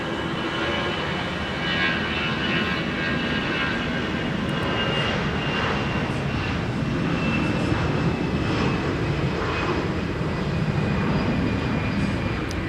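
A steady, loud roar from an airliner's engines at Minneapolis–St. Paul Airport, held for several seconds without any voices.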